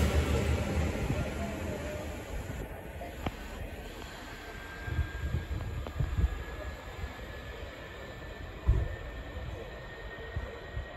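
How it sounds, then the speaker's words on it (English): A train passes through Adlington station in Lancashire, with a broad rumble, a thin wheel squeal and occasional clanks across the whole stretch, and faint voices in the background. "That train as well."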